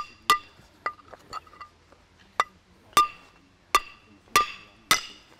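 Sharp stone-on-stone clicks and ringing taps of flintknapping atop South Mountain come in irregular strikes, about a dozen, some bright and resonant, with quiet gaps between.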